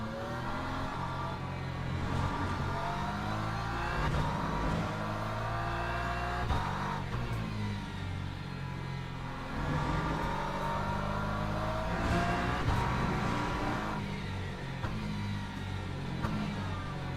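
Race car engines roar in the Le Mans Ultimate racing game, with a throaty Mustang among them, holding a loud, continuous drone that rises and falls through gear changes and acceleration, with no talking.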